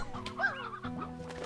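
Hen-hen chickens in Slime Rancher 2 cluck and chirp in short, close, bird-like calls over a soft background music bed.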